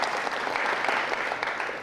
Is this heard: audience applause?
yes